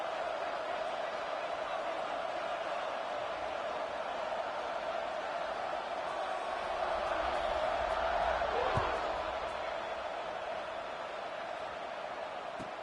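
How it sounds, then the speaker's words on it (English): Football stadium crowd at a Texas A&M versus Kansas State game buzzes steadily after a score, a dense distant roar of many voices that swells slightly near the end, with no clear talk on top. "this crowd is buzzing after that last score."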